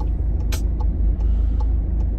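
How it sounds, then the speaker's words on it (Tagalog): Heavy rush-hour street traffic rumbles steadily with the low drone of many vehicles, including buses and trucks, punctuated by a sharp air-brake hiss and a few brief clanks. "napakaraming sasakyan, train, mga naglalakad ano, sabay-sabay, rush hour."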